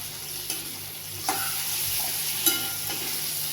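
Tomatoes sauté in a pan over chilli and garlic for a spicy okra dish, a low continuous sizzle with a few spoon scrapes and taps, close and quiet, no talking.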